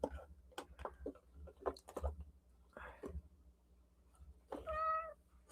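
Cat meowing indoors, a short tonal meow near the end after several brief soft sounds, with a person speaking quietly nearby.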